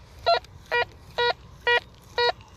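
A Nokta Impact metal detector rings in the zinc penny range with five short, evenly spaced beeps. Each beep is clear, steady and electronic, heard over faint background hiss, and no one speaks.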